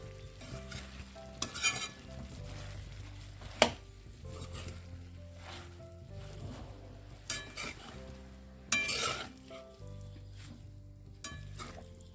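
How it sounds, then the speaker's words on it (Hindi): Potatoes, peas and fenugreek leaves are stirred in a sizzling pan, with steady frying hiss broken by irregular scrapes and clacks of the spoon against the pan, close and without talk. "इसी के साथ ही हम इसमें मेथी भी ऐड कर देंगे और इन सबको अच्छे से मिला लेते हैं"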